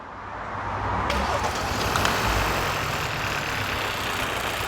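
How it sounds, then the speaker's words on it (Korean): A car engine cranks and catches, then settles into a steady idle with a constant low rumble and broadband hum, heard in a workshop during an engine flushing job. "자, 시동 걸어 주세요."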